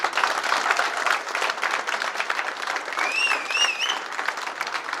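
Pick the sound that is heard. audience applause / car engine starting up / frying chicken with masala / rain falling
audience applause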